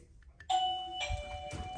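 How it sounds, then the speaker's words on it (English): Indoor doorbell chime set off by a cat, giving a single clear ding-dong: two bright tones in quick succession ringing out alone after a faint click. "And then that is the actual ding dong bit."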